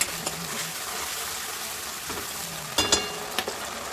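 Sauces being stirred together in a hot pan for Manchurian, a soft steady sizzle with a few scraping stirring knocks near the end and no voices.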